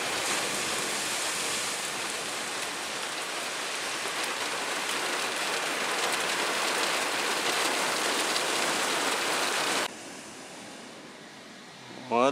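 Steady rain pours down on a hard surface, a dense even hiss that runs for most of the clip, then thins abruptly to a lighter patter, in Primorye, Russia.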